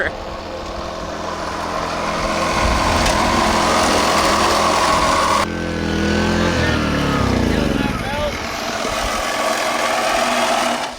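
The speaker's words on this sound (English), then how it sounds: "Okay, now we can shut down this pump" The small pump engine on an RC gold mine setup runs outdoors with a loud, buzzing, high-revving drone. The pitch shifts and falls partway through and then steadies again.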